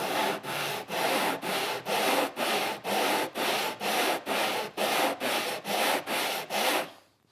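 By hand, 100 grit sandpaper is worked along the end of a wood board to remove jigsaw blade marks, giving about fourteen even, rhythmic rasping strokes close up with no talk.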